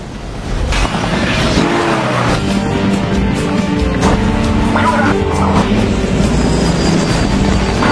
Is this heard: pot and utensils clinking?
no